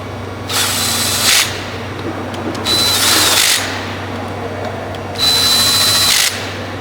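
Power tool tightening bolts on a full-size valve gate cylinder assembly, three loud whirring bursts of about a second each separated by short pauses, close up over a constant low hum.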